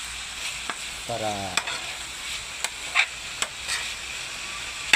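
Egg frying with ampalaya (bitter gourd) in a pan, soft sizzle under sharp clicks and taps of a utensil stirring against the pan at irregular intervals, with a brief voice-like tone near the start.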